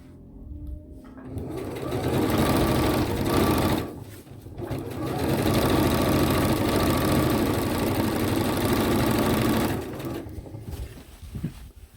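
A sewing machine stitching the baffles of a DIY underquilt runs in two long, loud, steady bursts of rapid mechanical whirring, separated by a brief pause, then stops near the end.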